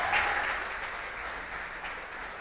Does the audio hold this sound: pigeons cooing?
no